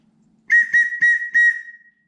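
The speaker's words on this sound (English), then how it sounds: "Then we've got a whistle." A shrill whistle from a BCB International military survival kit is blown in four short, loud blasts in quick succession, the last one trailing off.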